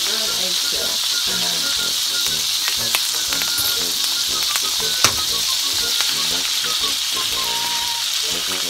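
Eggs sizzle and crackle in a hot pan, a constant frying hiss with sharp pops scattered throughout.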